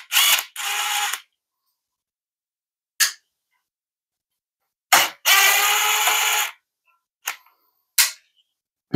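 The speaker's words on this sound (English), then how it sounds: "And we'll see if we can just do it with a drill head" A drill press bit drills into the metal base plate of a Dewalt DCS573 circular saw, heard as a few short loud grinding bursts and one longer steady cut, separated by silent gaps and sharp clicks.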